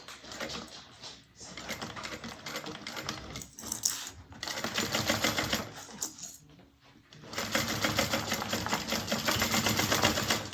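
A sewing machine stitches a bag in several bursts of rapid, close needle chatter, with brief pauses between runs and a longer, louder stretch of stitching at the end.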